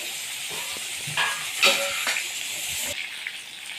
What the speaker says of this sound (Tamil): இப்போ சிக்கன் 65 பண்ண எண்ணெயிலே வந்து மீனை ஃப்ரை பண்ணிக்கலாம்பா.